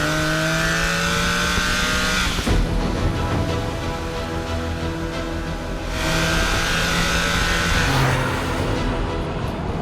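A Porsche 996 GT3 RS with its 3.6-litre race-derived Mezger engine revs hard and close, its howl climbing and dropping through gear changes, then surging again.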